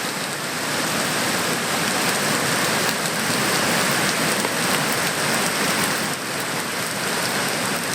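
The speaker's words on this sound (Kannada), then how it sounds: "ಮಳೆ ನೀರು ಪ್ರವಾಹದೋಪಾದಿಯಲ್ಲಿ ಎಗ್ಗಿಲ್ದೆ ನುಗ್ಗುತ್ತಾ ಇದೆ" Heavy monsoon rain in Kerala's Wayanad after a landslide, with rainwater rushing like a flood over roads and houses. It makes a dense, steady, loud roar of downpour and torrent throughout, with no voices.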